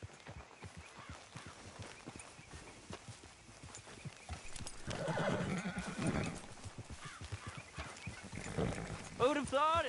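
Horse hooves clip-clop steadily and a horse neighs and whinnies in a PS4 video game, at moderate loudness with mixed game sounds, and a voice talks over much of it.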